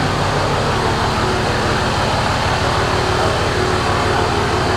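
An old Dodge truck with a Cummins diesel engine idles in a constant, loud, low rumble with no change in pace throughout.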